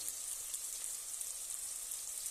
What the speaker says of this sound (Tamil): பாருங்க வெங்காயம் நல்லா வதங்கிருச்சு